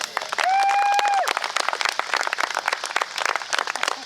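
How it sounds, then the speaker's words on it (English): A crowd applauds veterans at a salute-to-veterans gathering in St. Marys, Ohio, with a steady burst of dense clapping running several seconds after a brief whistle-like tone at the start. "I think they deserve a round of applause"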